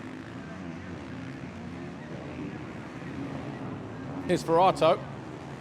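A 65cc Fantic motocross bike engine at a race in Mantova, a steady drone running continuously under a commentator's voice, with a brief sharp high whine near the end.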